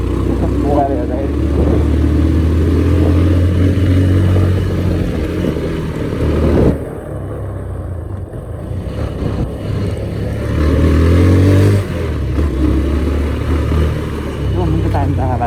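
A motorcycle ridden at night through Baglung, its engine droning and revving steadily up close, briefly easing off midway, while a rider's voice talks over the ride.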